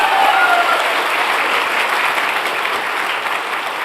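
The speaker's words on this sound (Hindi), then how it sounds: "ए और बी दोनों अपने लिए जबरदस्त ताली बजाइए।" Loud, dense applause fills a live Web3 event hall in Delhi, as a large crowd claps steadily and close throughout, with a few brief cheers at the start.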